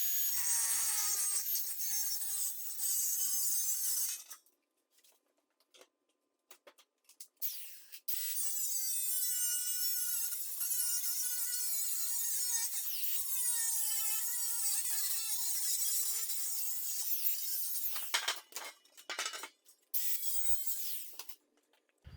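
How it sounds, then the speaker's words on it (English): A wheel tub for a custom front end on an S13 drift car being cut in half, long stretches of loud, close, high grinding cutting with pitch-wavering tones, broken by short pauses. "we're just going to start by cutting this in half"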